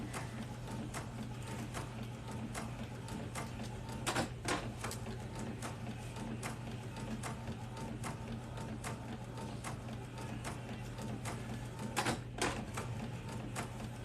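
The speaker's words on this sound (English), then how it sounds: "here it is coming out of the printer right now" Printer printing a large sublimation print, a steady mechanical hum with a low whir and repeated faint clicking, plus a few sharper clacks of the print head reversing, and no voices.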